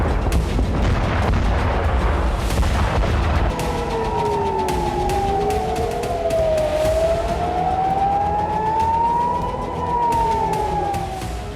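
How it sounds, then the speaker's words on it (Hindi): Loud rumbling blasts at night during Israeli strikes on Lebanon, with a heavy roar for a few seconds, then a wailing siren rising and falling steadily over continuing rumble. "देखिए कैसे रात के अंधेरे में तेज विस्फोट हुआ"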